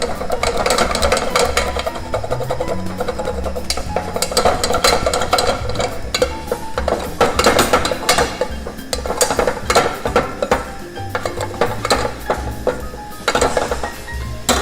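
Choux pastry dough of flour and water being stirred in a pan over low heat, with steady scraping and clinking of the utensil against the pan repeating throughout, close and fairly loud with no voices.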